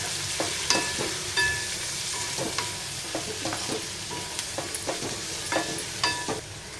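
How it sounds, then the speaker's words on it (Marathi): Cumin powder and Kashmiri red chilli powder, with turmeric, sauté in a pan, giving a steady sizzle broken by repeated sharp scrapes and taps of a stirring spoon, close and alone. "जिरेपूड, काश्मीरी लाल मिरची पावडर, लाल तिखट आणि छान असं परतूया."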